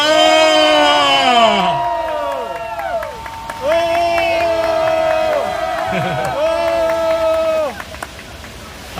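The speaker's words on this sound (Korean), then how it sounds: "함성으로 3-7초 동안 와 하고 격려 함성 외쳐주시길 바랍니다" Young attendees at a rally in front of the National Assembly in Seoul shout a long, loud cheer together in the rain on cue, with voices rising and falling over several seconds amid crowd noise.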